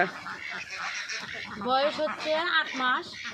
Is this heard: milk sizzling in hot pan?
no